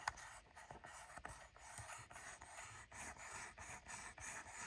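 Gritty scraping of a sand-fouled fader on a beach-damaged Denon MC-4000 DJ controller, pushed back and forth in repeated rough strokes, close and fairly quiet.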